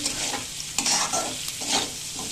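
Rice for a breakfast rice roast is fried and stirred in a pan, a spatula scraping in uneven strokes over continuous sizzling, close by and alone.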